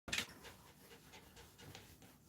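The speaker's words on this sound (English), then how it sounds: "Oh, Lee, what a good dog, Bear." A Havanese dog pants softly and rapidly up close while its matted coat is groomed, a steady quiet huffing with no talking.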